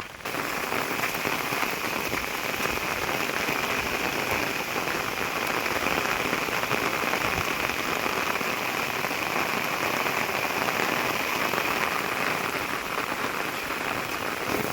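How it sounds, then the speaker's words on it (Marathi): Heavy monsoon rain in the Konkan countryside pours down steadily, a dense, loud hiss of drops hitting surfaces all around, with no voices. "मित्रांनो, पाऊस जोरात आलाय आता."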